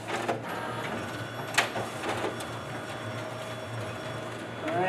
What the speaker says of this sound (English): as you can see, the document feeder is working properly